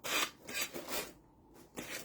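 Rough, raspy back-and-forth strokes of a sanding block on a decoupaged plate, several passes with a brief pause, close up and fairly quiet.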